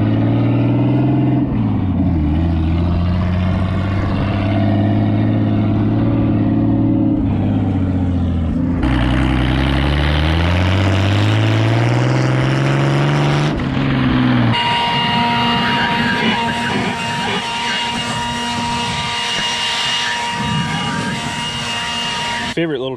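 A Jeep Grand Cherokee with a 5-speed manual and blown-out windows drives along, its engine droning and rising through gears, with wind roaring through the open cabin and loud rattling over the run.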